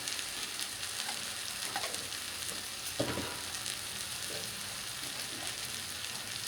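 Ground spices sizzle in hot oil in a pan for a chicken and young jackfruit curry, a steady frying hiss with a few soft scrapes and taps of a spoon stirring, close and continuous.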